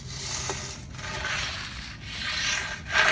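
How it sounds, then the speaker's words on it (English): Steel rake dragging across clay dirt to clear clumps, producing repeated rough scraping strokes in a steady rhythm, close and moderately quiet. "grab your steel rake and just go ahead and rake off all clumps and excess dirt"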